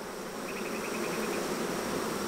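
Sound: honey bees fanning their wings at the hive

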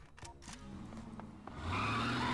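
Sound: vans speeding away with tyres squealing, from video game Max Payne 2

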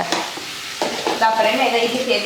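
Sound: tomatoes and mint sautéing in a pan

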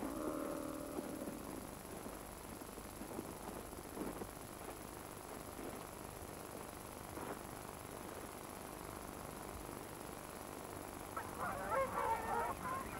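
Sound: trumpeter swan calling in winter at Yellowstone

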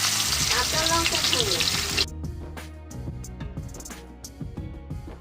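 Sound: fish frying in oil in a pan

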